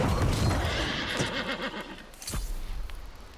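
A horse in the video game New World gives a loud, close whinny with a wavering neigh, followed by a brief thud and some hoof shuffling.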